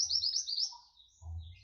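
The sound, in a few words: murai air bird chirping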